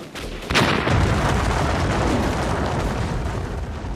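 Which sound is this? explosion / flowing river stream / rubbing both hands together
explosion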